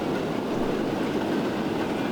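A train rolls past on rails in the Transport Fever 2 video game, a dense, steady rumble and roar that stays loud and even the whole time, with no voices.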